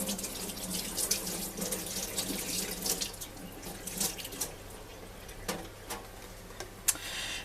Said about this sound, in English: I'll just try and wash my hands quickly.